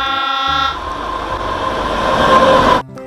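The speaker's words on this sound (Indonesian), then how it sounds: "ternyata ada lokomotif kereta api" A toy locomotive's train horn blares steadily alongside rumbling, rattling rail noise, loud and close, cutting off abruptly near the end.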